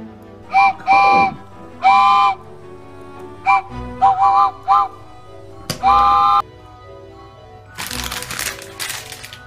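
Short bursts of a toy train whistle toot repeatedly, bright and close, separated by pauses, followed by a crackling rustle near the end.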